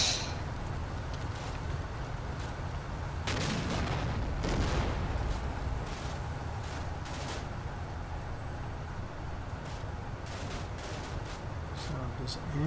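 In the wartime strategy game Combat Mission: Shock Force, several military vehicles fire at once. A dense, loud barrage of booming cannon and gunfire runs throughout, and a voice talks underneath.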